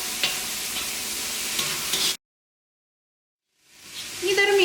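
A spiced vegetable mixture for cutlets is stirred in a hot pan, a close sizzling hiss with scraping, cut by a sudden silence before the sizzle fades back in.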